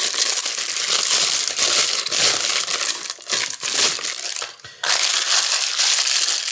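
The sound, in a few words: crumpled parchment paper being unfolded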